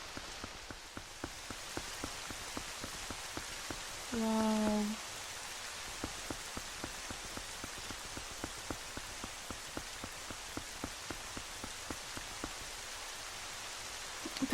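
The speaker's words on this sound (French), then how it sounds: "Ah si, il pleut toujours." Steady rain pours in The Legend of Zelda: Twilight Princess near Hyrule Castle, a soft continuous hiss with fine drop patter throughout. A brief tonal game sound rises midway, and a voice gives one short exclamation.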